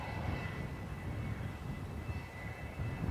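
Ryanair airliner landing at Dublin Airport on runway 28 left, its jet engines a steady, moderately distant roar with a low rumble, heard outdoors with no voices.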